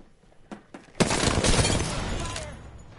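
Video game gunfire: after a couple of faint clicks, a loud, dense burst of shots erupts and rattles on steadily for about two seconds before easing off.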